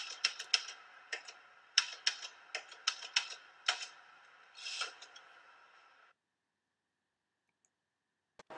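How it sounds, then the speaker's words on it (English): Rapid mechanical keystrokes from a USB typewriter clatter in an irregular run for several seconds, then stop, leaving near silence with one faint click at the end. "Forward to basics. The USB typewriter."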